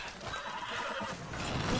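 A horse in a video game, Red Dead Redemption 2, whinnies in a shaky, drawn-out neigh, fairly close, with light background noise and no talking.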